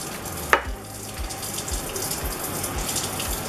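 Water pours steadily into a pot with a soft gushing hiss, preceded by a brief sharp clink near the start; half a cup goes in after coconut milk.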